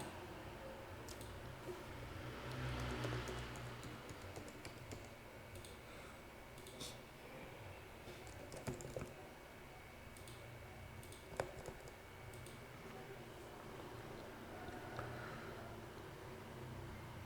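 Light keystrokes on a computer keyboard while entering customer details into pharmacy sales software, faint scattered clicks over a low steady room hum with no talking.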